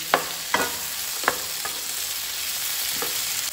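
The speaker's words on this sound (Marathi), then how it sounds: "जस्ट मातशें मोव जायसर हितून परतून घेवपाचें" Tomatoes are stir-fried in a pan with a constant soft sizzle, broken by several sharp scraping stirs of a spoon against the pan, heard up close with no talking.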